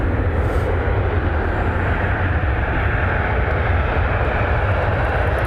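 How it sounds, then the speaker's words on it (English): Steady, broad roar of a private jet's engines as it taxis out for departure at an airport, constant and fairly loud throughout with no breaks. "That private jet is heading over here for departure."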